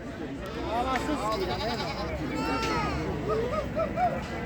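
Several goats bleating at a goat market in Ganja, overlapping calls near and far amid a crowd's chatter and people talking throughout.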